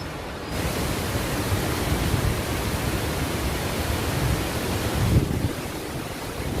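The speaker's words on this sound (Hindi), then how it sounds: "फाइनली वाटरफॉल पे पहुंच गए।" Jogini waterfall near Manali roars as a steady, broad rush of falling water, loud and continuous from start to finish with a light buffet of wind.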